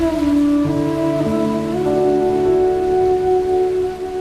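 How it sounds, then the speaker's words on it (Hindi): Heavy rain pours as a steady, even hiss beneath sustained melodic background music, with no voices heard. "बहुत तेज बारिश हो रही है"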